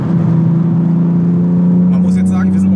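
A Toyota GR Yaris with 261 PS pulls hard in third gear, a loud, close, steady engine drone heard from inside the cabin that climbs slightly in pitch, with a few faint higher sounds near the end.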